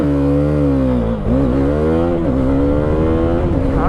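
A 2016 KTM Duke 390 motorcycle launches hard on an open rural road, its single-cylinder engine revving loud and close, climbing through the rev range with a quick shift dip partway through before pulling strongly again.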